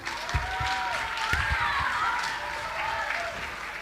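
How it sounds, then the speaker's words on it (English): Audience at an end-of-term school performance applauding the musicians, steady clapping filling the room with a few whoops and voices calling out over it. "So let's just give another big round of applause to all those wonderful musicians."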